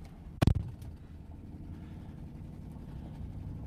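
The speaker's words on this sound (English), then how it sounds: "Let me try slamming the door harder." A truck door slams shut once with a sharp, loud bang, followed by a steady low engine idle rumbling beneath it.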